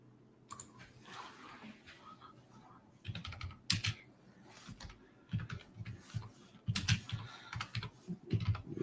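Keys clatter on a computer keyboard in quick, irregular bursts of close, crisp clicks separated by brief pauses, with faint room noise between.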